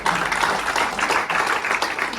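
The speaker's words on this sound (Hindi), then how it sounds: "एक बार ईश्वर जी के लिए भी ताली बजा दो।" An audience claps together for a man named Ishwar at a youth leadership talk, a steady dense patter of hands filling the room for a couple of seconds with no voices on top.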